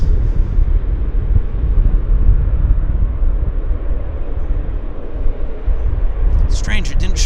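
A Beechcraft King Air medevac plane at Vancouver Airport gives off a steady low rumble of engines from a distance, with people talking over it throughout.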